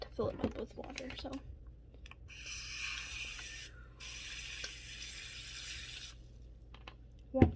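Tap water runs steadily into a crested gecko's water container for about four seconds, briefly interrupted, after some handling noises and before a sharp clunk at the end.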